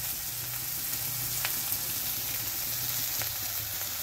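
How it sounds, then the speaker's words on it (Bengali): Tomato, ginger, garlic and onion sizzling steadily in a pan for a fish-head and potato curry, a continuous close crackle with a few soft stirring scrapes. "আমার টমেটো, আদা, রসুন, পেঁয়াজ সব মোটামুটি ভাজা হয়ে গেছে"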